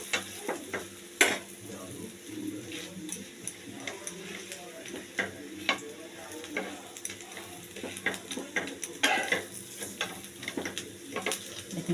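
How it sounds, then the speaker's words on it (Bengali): Carrot paratha fries in oil in a pan while being pressed down repeatedly, a steady moderate sizzle broken by frequent soft spatula presses, taps and clinks, close and without talk. "একটু তেল দিয়ে ভালো করে ছেঁকে নিতে হবে, চেপে চেপে"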